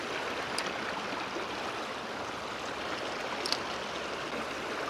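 Steady broadband rush of the Elvė river flowing during a fishing trip in France, continuous and fairly close, with no talk.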